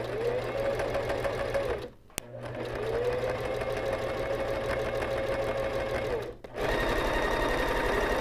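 A sewing machine stitches a rolled hem on fabric, running with a steady, close mechanical whir and hum that pauses briefly twice before resuming.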